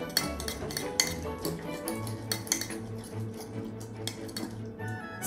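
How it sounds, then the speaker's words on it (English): A fork whisks egg, milk and mashed banana in a mug, making quick, steady clinks and scrapes of metal against the cup, close up over a low hum. "Using my trusty fork, whip it all up."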